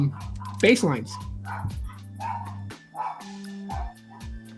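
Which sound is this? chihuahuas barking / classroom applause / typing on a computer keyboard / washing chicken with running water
chihuahuas barking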